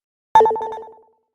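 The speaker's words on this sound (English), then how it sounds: "her phone suddenly rang, indicating a message" A phone rings once with a message notification: one bright chime that strikes suddenly and fades over under a second, alone in silence.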